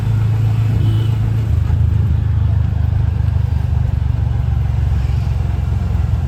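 Auto rickshaw driving on a road in the Koparkhairane and Palm Beach Road area of Navi Mumbai, its engine a steady, loud, close rumble throughout with no talk over it.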